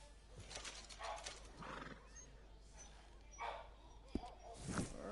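A horse in Red Dead Redemption 2 neighs and whinnies faintly over scattered hoof clip-clops, with a few brief louder calls against steady low background noise.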